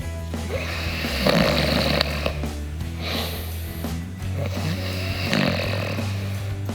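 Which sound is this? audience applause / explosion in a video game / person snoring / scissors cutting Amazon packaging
person snoring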